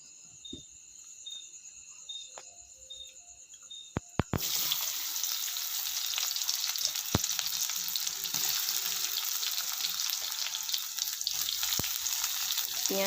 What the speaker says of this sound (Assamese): পিঁয়াজখিনি আৰু বিলাহীখিনি ভাজি ল'ম।